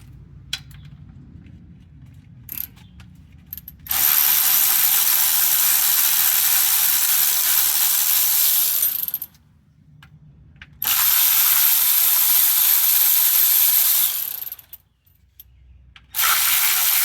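A ratchet works the 10 mm oil pan bolts on a 1999 Ford Mustang Cobra in three bursts of rapid, buzzing clicks, with short quiet pauses between them.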